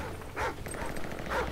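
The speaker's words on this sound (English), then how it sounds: "Oh god, the dogs. I hear them." Dogs in Call of Duty MW3 Spec Ops give two short, fairly loud bark or yelp bursts over a busy game soundscape, the second one about a second after the first.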